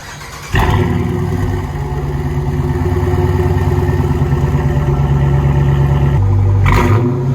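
A 2017 Chrysler 300 S with the 5.7L engine and Bullet Flow race exhaust, 2.5-inch pipe and muffler delete, roars loudly and steadily up close after a sudden start, with a brief rev near the end and no talk.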